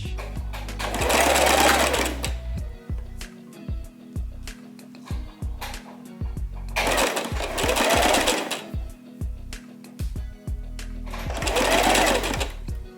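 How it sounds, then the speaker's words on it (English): A sewing machine stitches and serges the shoulder seams of a homemade T-shirt, running in three loud, steady bursts of a couple of seconds each, separated by quieter handling noises. "I'm going to take them to the machine, stitch them, and also serge them at the same time, just so I get a professional finish."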